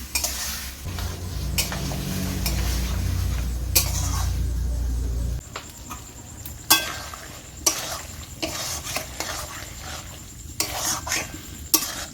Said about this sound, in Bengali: এবার লো হিটে আমি চিকেনটাকে কষাতে থাকবো।